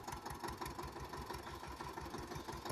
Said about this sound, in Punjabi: ਹੁਣ ਆਪਾਂ ਆਪਣੇ ਟਰੈਕਟਰ ਤੇ ਬੈਠ ਕੇ ਆਪਾਂ ਵਾਉਣ ਦੀ ਤਿਆਰੀ ਕਰਦੇ ਹੋਏ